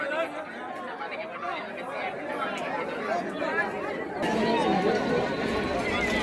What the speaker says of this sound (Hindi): यहाँ पर भी ना ओमकारेश्वर की तरह बहुत ज़्यादा भीड़ है